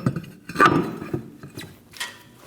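Lug nuts being threaded on and snugged down on the rear wheel of a 2008-2015 Scion xB, a few scattered metallic clicks and ratcheting taps with short pauses between, close and quiet, no speech.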